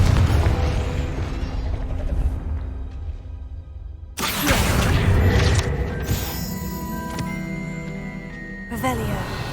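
Confringo fire spell exploding in Hogwarts Legacy, a sharp burst about four seconds in followed by a loud crackling, rumbling blast that decays over several seconds, with game sounds before it.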